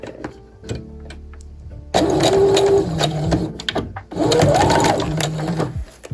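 A sewing machine stitching a sleeve onto vintage Barbie doll clothes, running loud and close in two steady bursts with a short pause between, motor whine rising and falling.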